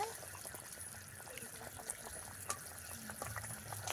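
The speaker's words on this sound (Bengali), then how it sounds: "ঝোল ভালো ফুটে গেছে" Fish curry with potatoes and lentil dumplings (bori) boiling in a pot, a steady soft bubbling and faint trickling simmer with scattered small pops, close and fairly quiet throughout.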